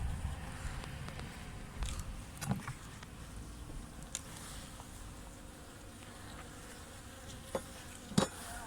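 A soft, steady buzz of many honey bees at a hive fills the background, with occasional light clicks and taps from handling a hive frame nearby.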